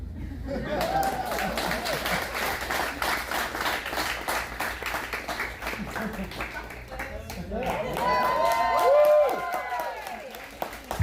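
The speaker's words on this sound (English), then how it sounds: "Hey, clap for Bucket List and clap for Shirley." Audience applause at an open mic poetry reading, steady clapping from a crowd with scattered cheers and chuckles, growing louder near the end while voices rise over it.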